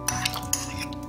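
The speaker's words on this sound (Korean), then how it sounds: "미리 채쳐놓은 밀가루와 베이킹 파우더, 이렇게 넣고 잘 섞어주세요." Batter with flour and baking powder is stirred in a bowl, a short run of close scraping and clinking of a utensil against the bowl with a few sharper taps.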